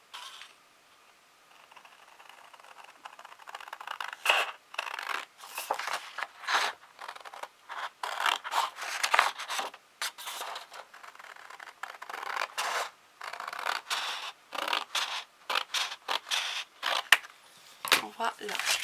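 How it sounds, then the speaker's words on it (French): Scissors snipping through the middle part of a pastel Halloween cascade card in uneven bursts of crisp cutting and rustling paper, close and alone after a quiet start. "je vais découper la partie du milieu"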